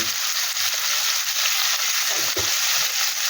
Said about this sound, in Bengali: এবার এটাকে ভালো করে ভেজে ভালো করে ভেজে নেবো